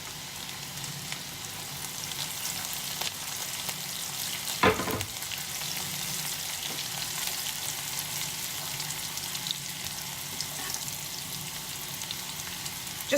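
Garlic and green chilies fry in a pan with ginger, giving a steady, even sizzle throughout, with a brief scrape of stirring partway through and no voices.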